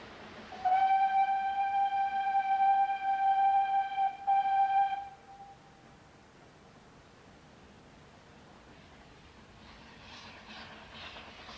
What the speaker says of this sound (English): Over the bridge, the train enters Dolgoch station.